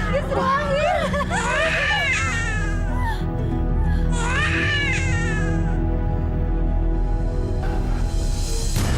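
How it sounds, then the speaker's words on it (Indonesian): An infant cries in loud, wavering wails in two main bursts, close by, over a steady background hum with some murmuring voices. "Saya seperti mendengar suara tangisan."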